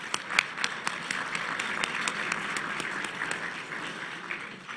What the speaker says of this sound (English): give yourselves a round of applause for being here tonight